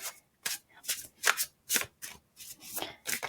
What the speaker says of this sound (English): I feel like I'm just shuffling all day